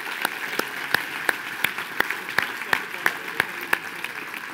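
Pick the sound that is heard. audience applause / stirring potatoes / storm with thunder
audience applause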